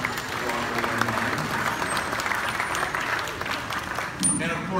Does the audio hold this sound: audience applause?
yes